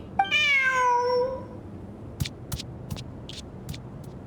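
A cat in the video game Genshin Impact gives one clear, drawn-out meow near the start, then a few sharp short clicks and taps follow in the quieter remainder.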